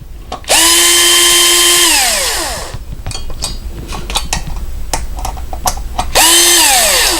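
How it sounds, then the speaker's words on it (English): A power drill whirs loudly for about two seconds, then spins down while it backs out the cover screws of a Schlage electronic deadbolt. Metallic clicks and clinks of handling follow, and a second loud burst of drilling closes the clip. "I'm lazy, so I'm going to use power tools"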